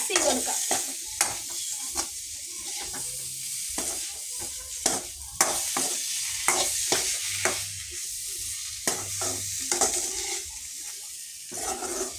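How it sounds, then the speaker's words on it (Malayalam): Tomatoes being stirred and fried in a pan for fish curry, with a spatula scraping repeatedly in an irregular rhythm over a steady close sizzle and no talking. "അപ്പം ഇനി നമുക്ക് ഇതിലേക്ക് തക്കാളി ചേർക്കാം"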